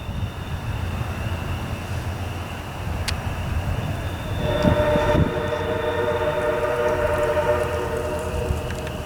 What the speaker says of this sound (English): As the last Frederick-bound MARC train exits the Y and continues now heading eastbound towards Frederick, Maryland